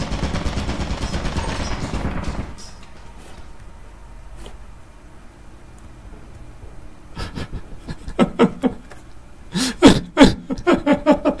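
Turret fire in a video game: a dense burst of gunfire at first, then quieter sparse shots and bursts of rapid firing near the end, with no talk.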